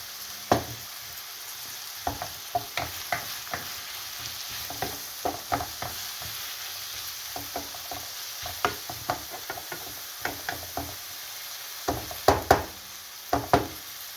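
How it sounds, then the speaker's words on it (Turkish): Peppers and onions sauté in a pan with a soft continuous sizzle, broken by irregular knocks and scrapes as a spoon stirs them. The sound is close, and no one talks over it. "Üzerine biraz tuz serpelim çabucak kavrulsun."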